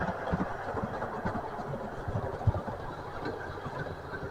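Model railway trains running along the track, a steady low rumble and whir with faint rhythmic clicking, moderately close, with no talking.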